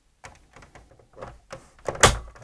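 Plastic casing of a PS3 Super Slim console being pried off by hand: a run of small close clicks and creaks builds to one sharp, loud snap as a clip releases, followed by lighter rattling.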